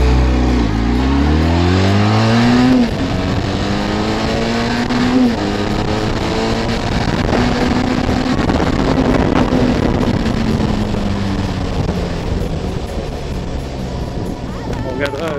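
A scooter accelerates hard from a standstill on a 0 to 100 run, its engine rising in pitch through several gear shifts, loud and close with wind buffeting and people talking over it.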